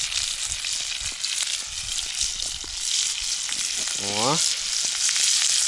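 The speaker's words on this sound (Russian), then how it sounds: "Сегодня будет жареная щука, ребята." Pike frying in hot oil in a pan sizzles loudly and steadily from close by, with a short vocal sound near the end.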